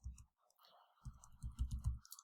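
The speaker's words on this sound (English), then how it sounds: "you'll see me typing the code." Code is typed on a computer keyboard, with bursts of soft, rapid key clicks separated by short pauses, heard close and quiet.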